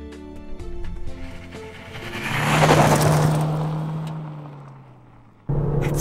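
A 2018 Chevrolet Cruze RS diesel hatchback with a six-speed manual gearbox hums along a bumpy road, its loud, steady engine and road drone swelling and easing as it drives, with no voices.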